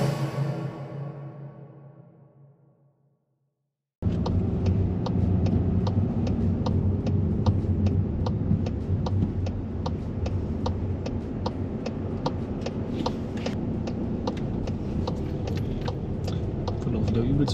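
A car pulls away during a Class B practice driving test: a steady engine and road rumble starts abruptly after a quiet lull and holds loud and even, with regular ticking from the indicator. People talk inside the car.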